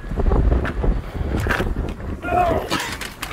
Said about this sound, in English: We're getting blown away by the wind today.